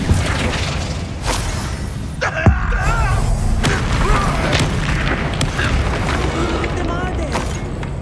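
An explosive blast from the Confringo spell in Hogwarts Legacy, a booming impact followed by crackling debris and rumble, with a brief sharp hit midway through a busy combat soundscape.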